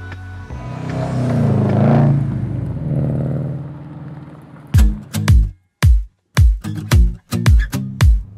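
A Subaru STI on a 2,800-mile cross-country road drive gives a steady engine and road drone, then a run of abrupt, loud clattering bursts separated by brief silences.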